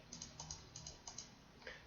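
A computer keyboard being tapped while fields are selected, with the Control key in use: about eight light, evenly spaced clicks over a quiet background, close and fairly soft.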